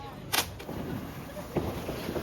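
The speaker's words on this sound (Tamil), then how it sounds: "சுத்தி சுத்தி பட்டாசு அடிக்கிறாங்க" Firecrackers burst during Deepavali celebrations, with a couple of sharp cracks and a few fainter pops scattered over a couple of seconds against a busy outdoor background.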